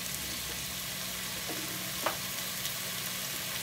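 Hot oil sizzles steadily in a pan as vegetables go in while Indonesian mie goreng stir-fry noodles cook, with a soft stir and a light clatter of a utensil partway through.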